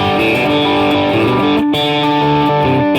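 Electric Stratocaster-style guitar on the second pickup selector position, combining two pickups, played as sustained distorted chords through an effects unit, loud and close with no voice.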